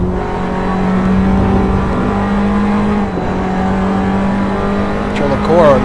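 A Formula Abarth race car's engine drones steadily on a lap of Imola in a racing game, holding a high sustained tone with a brief shift toward the end, beneath a commentator's continuous talk.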